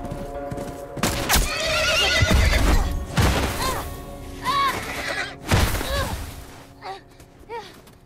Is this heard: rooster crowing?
no